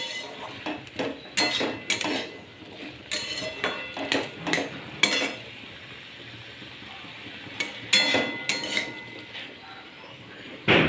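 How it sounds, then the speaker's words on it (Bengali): A metal lid clanks off a cooking pot and a spoon scrapes and knocks against the pot while mixed drumstick vegetables are stirred. Sharp irregular metallic clatters come close and loud in bursts, with quieter gaps between. "এরপর ঢাকনা খুলে নিয়ে সবজিটাকে নেড়ে নেব।"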